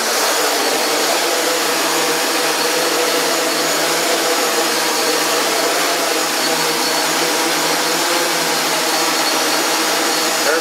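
A CarbonCore Y6 hexacopter drone hovers inside a garage, its motors making a loud, steady whirring drone with no pauses, close to the listener the whole time.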